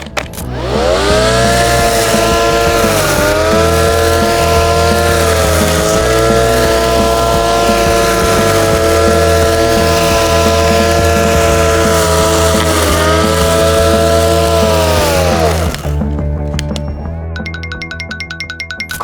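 A Dnipro-M DTC-200BC Dual cordless battery trimmer cuts grass with a loud, close, steady motor whine that dips slightly in pitch under load, then cuts off, leaving light clicks and rattles.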